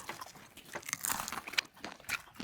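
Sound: crunchy fried chicken being chewed

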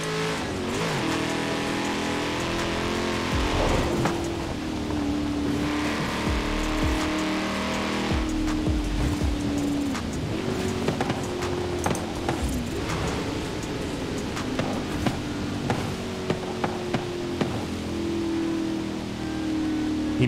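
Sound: sports car engine racing, video game

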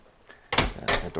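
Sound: door closing

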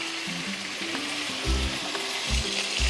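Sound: fish frying in oil

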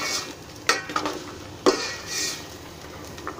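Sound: stir-frying vegetables in ghee

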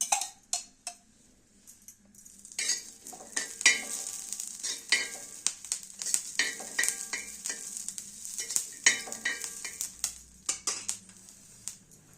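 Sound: green chillies roasting in a little oil

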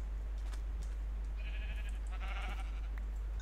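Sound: sheep bleating in a modded survival video game

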